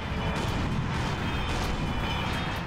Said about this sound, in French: T'as un canon bombardeur, j'ai l'impression qu'il est pas assez puissant